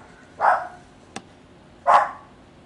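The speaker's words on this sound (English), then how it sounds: "I'll be back in 1 second because my dog's barking." A dog barks twice, a second or so apart, with a brief click between the barks; fairly close and otherwise quiet.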